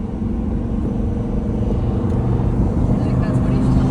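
A rotary-engined sleeper car cruises a gentle warm-down lap on track, giving a steady, loud low rumble and drone that swells slightly toward the end, with muffled voices in the cabin.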